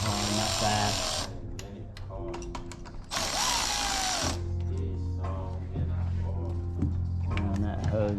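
A ratchet snugs down intake manifold bolts on a 2011 Honda CR-Z during a GE8 Honda Fit manifold swap, with bursts of rapid close clicking that alternate with pauses and a steady low hum underneath.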